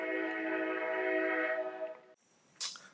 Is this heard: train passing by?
yes